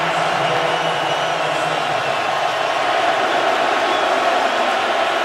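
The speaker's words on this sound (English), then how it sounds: "Husky crowd bringing it on 3rd down." Steady roar of a packed college football stadium crowd at Washington's Husky Stadium, building noise on third down against Stanford in 2012; a dense, continuous wash of cheering with no breaks, loud and sustained throughout.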